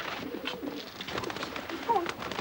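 Pigeons coo softly in a continuous low murmur, a few throaty calls rising over a steady background hiss, with no one talking.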